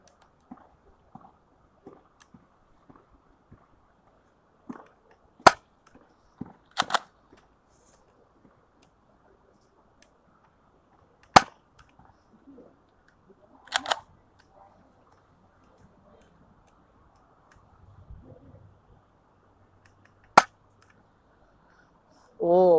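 Pistol fired outdoors at a steel target: a handful of sharp, loud isolated cracks spaced several seconds apart, with quiet rustling and faint background noise between them.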